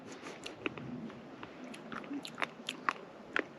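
A crunchy wild berry, sweet and compared to cranberry and pomegranate, is bitten and chewed on a desert hike, giving close, moist crunches and small wet clicks in an irregular rhythm over a faint background hiss.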